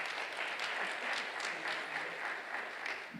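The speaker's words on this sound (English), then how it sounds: "We can give her a round of applause." A clinical research conference audience claps steadily, a dense, even patter of applause that holds at a constant level from start to finish.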